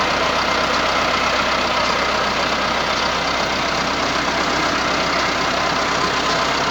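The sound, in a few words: Massey Ferguson 385 tractor engine running a water bore pump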